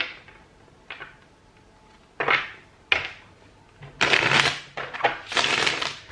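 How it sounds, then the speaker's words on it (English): Tarot cards being shuffled by hand in several bursts of riffling and flicking, starting with short soft taps and building to longer, louder papery rustles toward the end, with no talking. "I'm just going to shuffle your cards a couple of times here."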